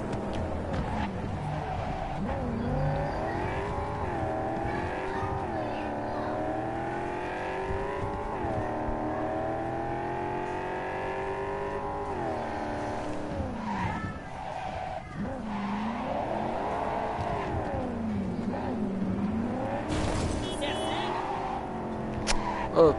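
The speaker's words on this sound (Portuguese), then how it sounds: "O ronco do motor, moleque." Car engine in the video game Cyberpunk 2077 roars continuously, its pitch rising and falling through repeated revving and gear shifts with tire squeal, loud and close for the whole stretch, with talk over it.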